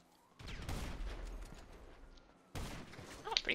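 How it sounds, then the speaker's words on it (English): Gunfire in the video game GTA Online crackles in two bursts of rapid shots, loud and close, with a short pause between them and faint speech nearby. "I love getting shot at when I'm trying to change my clothes."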